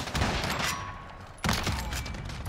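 Decoy grenade imitating gunfire in the video game Modern Warfare: two dense crackling bursts of rapid shots, the second starting after a short lull, loud and unbroken by speech.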